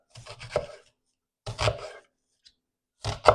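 Knife cutting vertical slices through an onion on a cutting board, in three short bursts of quick scraping, rasping strokes with pauses between, close and fairly quiet.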